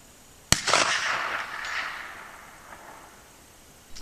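A Romanian AK rifle fires a single Hornady 123 grain spire point round at a 250-yard target outdoors: one sharp crack followed by a long, fading rolling echo.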